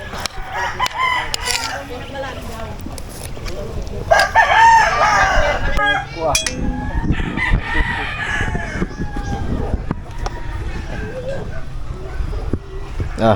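A rooster crows amid a busy outdoor backdrop with talking and other noises, its call rising clearly for a few seconds midway.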